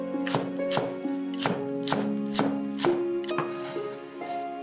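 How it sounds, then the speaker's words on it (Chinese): A knife chops scallions on a cutting board in quick, crisp strokes, roughly ten sharp cuts in a steady, slightly uneven rhythm, close and clear with no talking. "小葱切成葱花"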